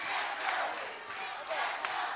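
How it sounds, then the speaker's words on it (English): A wrestling arena crowd chants steadily in a roaring, enthusiastic wash of voices, with a few claps and shouts rising out of the sustained noise. "Hear this enthusiastic crowd chanting, "Let's go, Dustin.""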